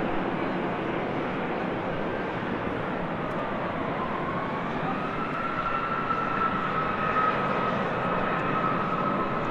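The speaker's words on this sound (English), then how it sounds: "Delta Airlines Flight 2551 heading to Portland, Oregon, and an A319." A Delta Airlines Airbus A319 jet on a runway taxiing or taking off, giving a steady, loud broadband engine roar with a faint tonal whine drifting upward partway through, continuous for the whole stretch with no voices.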